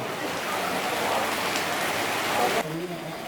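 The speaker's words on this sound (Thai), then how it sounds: "วันนี้ฝนตกนะฮะ แล้วก็เริ่มตกหนักเรื่อย ๆ ด้วยนะครับ" Heavy rain pours steadily at a nighttime Mid-Autumn Moon Festival in Phanat Nikhom, Chonburi, a dense close hiss of drops on surfaces that fills the scene, with someone talking over it.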